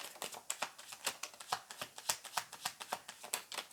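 Cards are shuffled rapidly and continuously, a steady run of crisp riffling clicks at close range with no talking.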